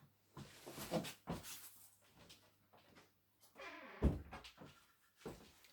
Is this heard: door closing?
yes